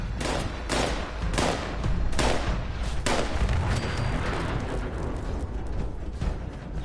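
Shotgun blasts hit robots in Fallout 76, a dense run of loud, close booming shots at irregular intervals over crackling, roaring game noise.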